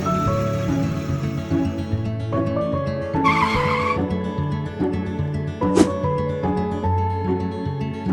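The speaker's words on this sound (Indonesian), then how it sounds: "Waduh, mobil bocor." A car with a flat, leaking tire in an animated school romance drama skids with a brief screeching burst, followed by a short sharp squeal, all over steady background music.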